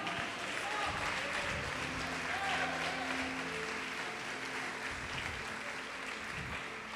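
A church congregation at a Portuguese-language service applauds and glorifies, soft and sustained clapping blended with murmuring voices and a few tonal sounds, heard at a distance.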